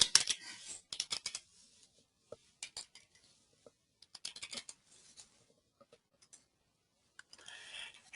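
Computer keyboard keys being tapped to type search text, heard as quiet scattered clicks in short bursts separated by pauses, with no one speaking.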